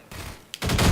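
Gunfire from Alyx in Half-Life 2 on Xbox 360, a short quiet lead-in and then a loud close burst of rapid shots filling the last half second.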